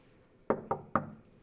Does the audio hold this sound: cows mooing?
no